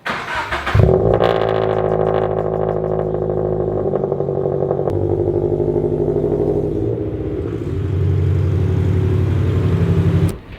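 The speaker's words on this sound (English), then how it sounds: "here is a cold start with the full exhaust setup" A Subaru BRZ with a JDL overpipe and full exhaust fires up from cold with a sharp burst, then idles loudly and raspily through its exhaust, settling briefly before the revs rise again.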